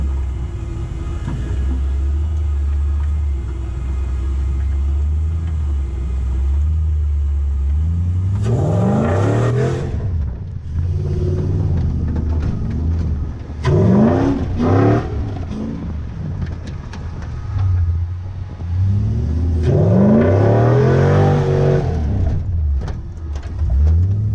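A 4x4 fitted with a 3UZ V8 idles with a deep, loud rumble, then revs hard in three separate bursts, each climbing and falling back to idle.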